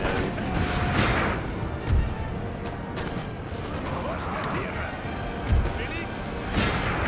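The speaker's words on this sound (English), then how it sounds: "I'm getting smacked by this fucking cannon over here" Cannon fire in the Napoleon Total War battle game, several heavy booms spread apart over a busy battlefield din, with a person talking throughout.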